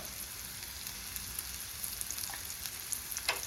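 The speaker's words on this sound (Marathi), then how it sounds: "आता आपण फ्राय करताना थोडीशी लसूण आणि कढीपत्ता टाकला आणि छान असा फ्लेवर येतो तेलाला" Two saundale fish fry in hot oil with a little garlic and curry leaves, making a faint, steady sizzle with small scattered pops and crackles throughout.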